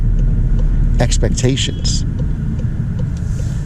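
A Volkswagen Golf R on the road gives a steady low engine and road rumble throughout, with someone talking over it near the start.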